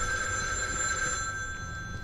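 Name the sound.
old telephone ringing in video game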